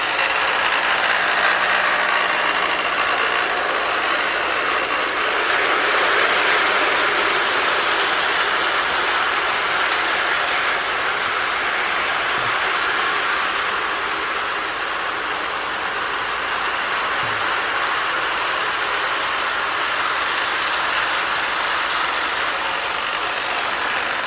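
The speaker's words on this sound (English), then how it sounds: "I like the diesel roar." A vintage-style Marx Alco toy diesel locomotive in translucent yellow Union Pacific livery runs with a diesel-roar sound unit, giving a loud, steady electronic engine roar that holds without a break for the whole stretch.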